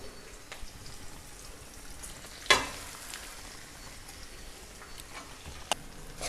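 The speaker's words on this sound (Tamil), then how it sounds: "இதை வதக்கிக்கலாம். தேங்காய் ரொம்ப வதங்கணும்னு அவசியம் இல்லை." Freshly grated coconut sautés in a pan, a steady low sizzle with a sharp clatter near the start and a couple of faint scraping stirs, no voices.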